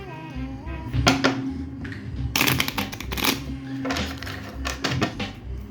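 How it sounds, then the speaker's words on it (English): Tarot card deck being shuffled by hand, with repeated riffling and slapping bursts of crisp card noise in a close, uneven rhythm, over a low background hum. "I'm going to shuffle it again."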